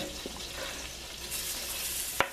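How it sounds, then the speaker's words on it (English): U10 shrimp and mushrooms are stirred in a pan over high flame, a brief soft scrape over a gentle sizzle ending in one sharp clack. "Give it one stir"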